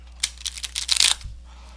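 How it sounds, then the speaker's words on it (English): Oracle cards are shuffled by hand in a short burst of quick riffling flicks, close and crisp, ending in a soft thump, with no talking. "as I've been shuffling, I feel like I need to shuffle a little bit more"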